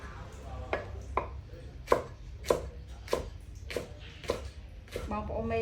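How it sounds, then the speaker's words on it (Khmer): A knife finely chops pickled mustard greens on a board, about ten sharp evenly spaced cuts close up, with a low steady background hum. "នាងខ្ញុំកំពុងតែធ្វើការហាន់បងប្អូនធ្វើហាន់ឲ្យវាល្អិតតូចទៅ"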